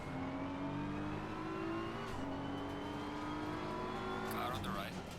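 Race cars roar past in Assetto Corsa Competizione, the player's engine revving and shifting up through the gears at a steady drone while other cars close in and pass nearby.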